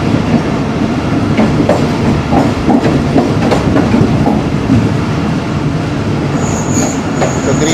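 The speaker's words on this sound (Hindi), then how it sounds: "लाला मूसा जंक्शन पर अब हम अप्रोच बना रहे हैं।" A Pakistan Railways train running on the approach to Lala Musa junction, heard from the guard's cabin: loud continuous rumble of wheels on rails with rhythmic clicking and a faint high squeal toward the end.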